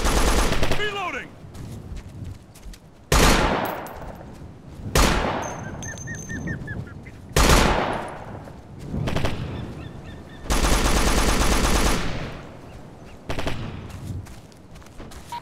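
Suppressive gunfire in the game Operation Flashpoint: Dragon Rising: loud, close rifle bursts and sustained automatic fire crack out repeatedly, each burst echoing away, with radio-style voices talking in between.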